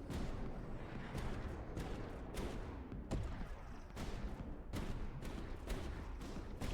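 Explosions and heavy artillery-like blasts boom and crack repeatedly in a video game's combat, an irregular string of sharp impacts over a dense rumbling din with no talking.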